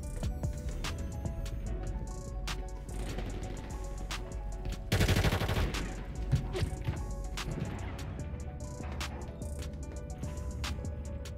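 Sniper and automatic gunfire in a Call of Duty match, with rapid shots crackling throughout and a heavier burst of fire midway, steady and fairly loud without speech.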